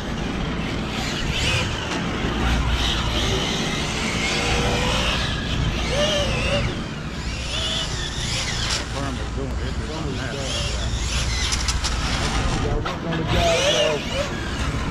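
ARRMA Felony 6s RC car driving outdoors, a steady motor drone with passing engine-like sweeps running throughout under continuous talk and background noise.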